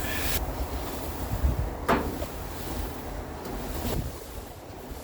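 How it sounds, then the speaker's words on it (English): Strong wind buffets the microphone outdoors beside a van's open back doors in a continuous low roar, with a few brief gusty swells and faint knocks, no voices. "It's also very windy out, so I may have to close these back doors"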